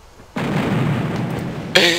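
Pirate ship cannon fire in Puzzle Pirates: a sudden booming shot rolls into a sustained rumble, then a second, sharper blast cracks near the end.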